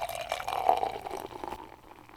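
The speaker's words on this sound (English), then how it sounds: "I'll pour mine" Wrexham Lager beer pours from a can into a glass, a short close gurgling stream of liquid with a light fizzy hiss that tapers off after about a second and a half.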